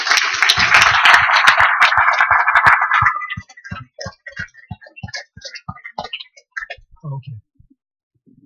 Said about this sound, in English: Can we give another round of applause to Frank?